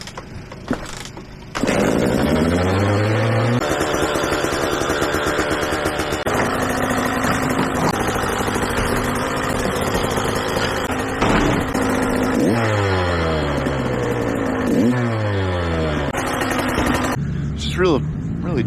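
A minimoto's small engine warms up on a chilly morning, starting after a brief silence, then idling steadily with repeated rising-and-falling revs, loud and close throughout.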